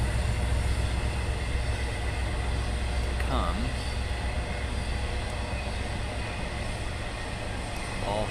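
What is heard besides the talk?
trains passing near baseball field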